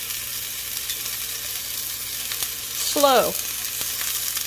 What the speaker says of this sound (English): Add sliced caps to pan.